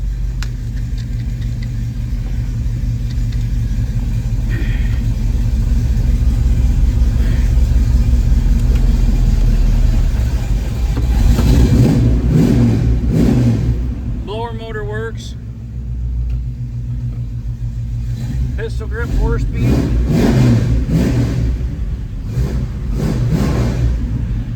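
A 1972 Dodge Challenger 340 with a 4-speed idles steadily, then revs up in a few bursts before settling back; people talk over the engine noise.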